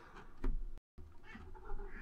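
A cat in a Minecraft game gives a short, faint meow amid game background sound, broken by a brief silent gap.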